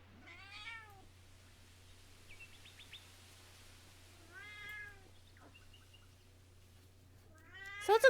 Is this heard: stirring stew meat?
no